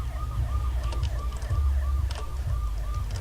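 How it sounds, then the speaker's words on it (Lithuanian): An ambulance siren wails in the video game Watch Dogs, a rapid repeating up-down tone cycling steadily over a low engine rumble. "Ai ne, čia greitoji."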